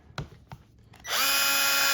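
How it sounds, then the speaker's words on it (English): A few light clicks and taps, then a Ryobi cordless drill whirs up to a steady high-pitched spin, close and loud. "That is the Ryobi drill right here"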